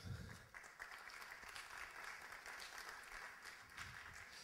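A conference audience applauds a speaker being introduced at an Italian talk on mobile marketing and communication, a steady, dense wash of clapping that runs throughout and sounds somewhat distant and soft.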